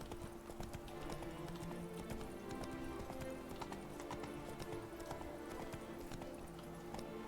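Hooves of the horse Roach clip-clopping at a quick gallop through a city in The Witcher 3, a continuous rhythmic drumming of hoofbeats with faint background ambience and no talking.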